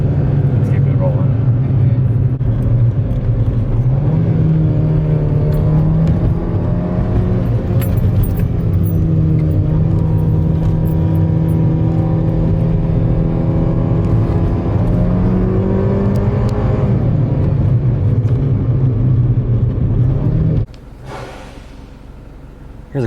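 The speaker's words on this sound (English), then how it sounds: "Here's a quick in-car clip of how it sounds in sport mode with the stock setup." Mini Cooper R56 engine in stock setup and sport mode, heard from inside the car as a steady droning hum that rises in pitch as it accelerates and pulls through gears, then drops off abruptly near the end.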